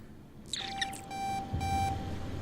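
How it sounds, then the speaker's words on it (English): A beeping alarm inside the Starfield video game, a run of sharp electronic beeps in quick repeats over a low background hum. "Beep, beep, beep."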